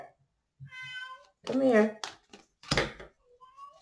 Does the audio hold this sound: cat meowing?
yes